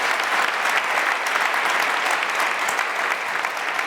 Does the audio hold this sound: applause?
yes